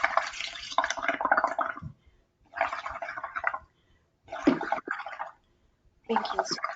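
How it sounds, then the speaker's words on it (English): Bubbles blown through a straw into liquid, four separate gurgling bursts of bubbling, each lasting about a second or more with short quiet pauses between, close and clear. "we can also blow the bubbles in with our straw"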